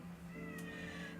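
A pet cat meowing, one drawn-out vocal meow, faint and indoors, heard alone without talk.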